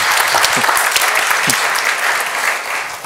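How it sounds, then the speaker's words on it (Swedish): An audience at a public lecture on migration and demography applauds warmly, a dense, even wash of many hands clapping throughout, close and loud, with no talk over it. "Vi ger dig en applåd."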